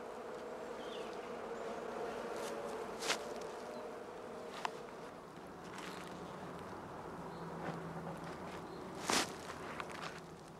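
Honeybees flying at the entrances of straw skep hives at a heath beekeeping operation in spring, a continuous low buzzing hum with a few sharp knocks and footstep-like taps nearby.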